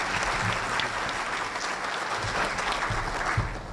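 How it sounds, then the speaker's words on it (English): Steady applause from an audience at a business summit, a dense continuous patter of clapping lasting several seconds with a low room rumble beneath. "So again, a round of applause and thank you."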